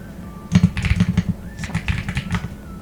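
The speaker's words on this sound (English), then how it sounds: "if you like the way that sounds, my keyboard" Clicky keys on a computer keyboard are typed in quick irregular bursts, close and fairly loud, with short pauses between runs and no talking.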